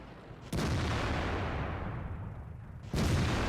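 Two heavy, booming gunshots in a tactical shooter video game, each a sharp loud crack followed by a long rolling tail, about two and a half seconds apart with no talking.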